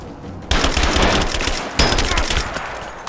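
Rapid gunfire in Rise of the Tomb Raider, a dense fusillade of automatic bursts with a sharp new volley at the start and another midway, loud and close throughout.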